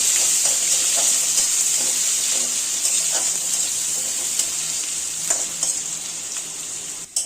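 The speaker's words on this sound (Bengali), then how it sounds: "সামান্য একটু কালো জিরে, 2-3 কোয়া রসুন থেতো করে দিলাম, একটু পেঁয়াজ কুচি, 2-3টে চেরা কাঁচা লঙ্কা দিয়ে খুব ভালো করে ভেজে নেব।" Nigella seeds, crushed garlic, chopped onion and slit green chilies fry in hot oil as a tempering for lentil dal, a loud continuous sizzle broken by repeated taps and scrapes of stirring.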